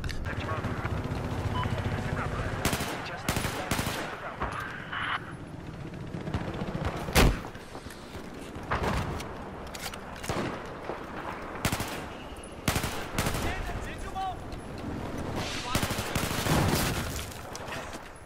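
Battlefield 4 gunfire crackles in repeated sharp bursts and single shots throughout, some loud and close, with a strong cracking report near the middle, mixed with game noise under ongoing talk.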